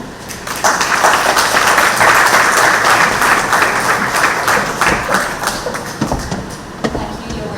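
Sustained, dense applause from an audience fills the space after the mayor's speech at a San Fernando city event; many hands clap steadily and loudly before the clapping gradually thins and tapers toward the end.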